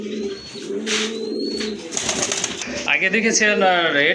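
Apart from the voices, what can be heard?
Rajgolla pigeons cooing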